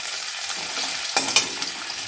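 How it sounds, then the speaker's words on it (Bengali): Onions fry in leftover fish oil in a wok with a close, bright sizzle and two quick stirring scrapes partway through. "তার মধ্যে দিয়ে দেবো পেঁয়াজটা ব্রাউন করে ভেজে নেব।"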